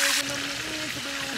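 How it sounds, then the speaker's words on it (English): Steady hissing sizzle of fish frying in hot oil, close by, with a faint tonal hum underneath. "So I'm frying the other set now"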